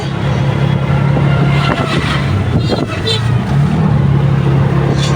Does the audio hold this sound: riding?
yes